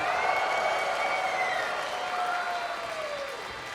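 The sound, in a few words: crowd cheering and applauding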